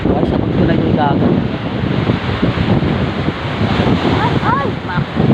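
Loud, continuous rush of surf washing onto the shore, buffeted by wind noise on the microphone, with faint voices underneath.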